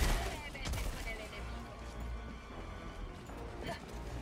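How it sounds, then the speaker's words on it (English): Barrage explosions in Helldivers 2, a rapid run of sharp booming impacts and crashes, some close and punchy, heard alongside voices talking. "I hate your barrage."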